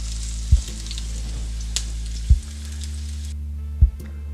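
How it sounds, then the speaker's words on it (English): Beef short ribs brown over medium heat in a roasting pan with a bright, close sizzle that cuts off abruptly near the end. A deep steady hum runs underneath, and three heavy thuds are spaced out across the clip. "Now brown up the short ribs in your roasting pan."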